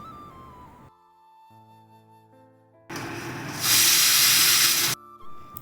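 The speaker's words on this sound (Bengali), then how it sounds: "এদিকে কুকারে সিটি পড়ে গেছে" A kitchen pressure cooker on a gas stove vents steam: after a quiet stretch of low tones, a loud broadband hiss rushes out for about two seconds, then cuts off abruptly.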